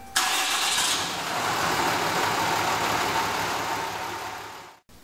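A diesel pickup truck is remote started. The engine cranks and catches with a loud rush, then settles into a steady, close idle for several seconds before cutting off abruptly.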